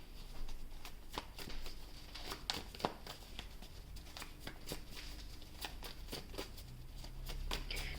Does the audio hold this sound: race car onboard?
no